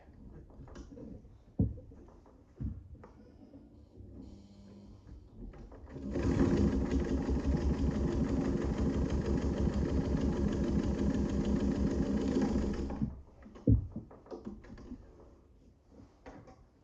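A Class 15 clone sewing machine, modified for heavy-duty marine canvas, stitches through three layers of stiff Dacron sail fabric, a loud steady rapid mechanical run of about seven seconds between quieter handling clicks and thumps.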